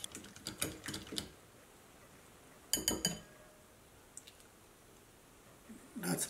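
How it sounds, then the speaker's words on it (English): A wire whisk beats an egg in a bowl, producing several quick bursts of metallic clinking and tapping separated by short pauses, with a faint brushing sound near the end. "the next step is to beat our egg. I'm gonna use this whisk here"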